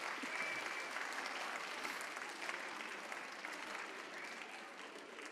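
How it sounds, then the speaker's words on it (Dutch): An audience at a children's university lecture claps steadily and evenly for several seconds, a dense sustained round of applause that fades slightly toward the end. "Ja, klappen mag, natuurlijk."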